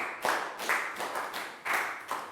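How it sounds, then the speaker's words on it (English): A few children in a Year 3 English class clapping in short, uneven bursts, close by and moderately loud, like a small group giving a quick round of applause. "Big round of applause for Pat."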